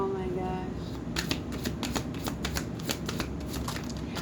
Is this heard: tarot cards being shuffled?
yes